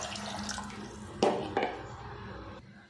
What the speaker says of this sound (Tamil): கொண்டக்கடலை வேகிற அளவுக்கு தண்ணி ஆட் பண்ணிடுவோம்